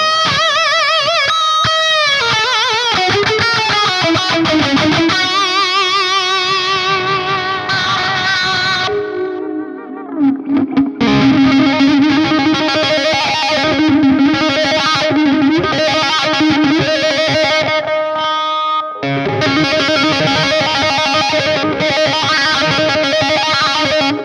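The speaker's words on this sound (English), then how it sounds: "So you already can hear the wah" Distorted electric guitar through a Mercuriall AmpBox 6160III amp sim plays sustained chords and riffs with a sweeping wah filter effect, loud and continuous with brief pauses.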